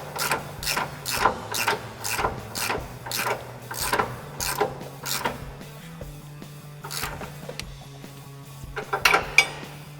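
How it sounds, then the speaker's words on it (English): A 1/2-inch drive ratchet with a 30mm socket tightens a bolt on a Ford F-250 front leveling kit, giving rapid bursts of close, sharp metallic clicking in repeated strokes, with short pauses and a steady low hum underneath. "I'm going to take my 1/2-inch drive ratchet, my 30mm socket, my 30mm wrench, and we'll tighten this up."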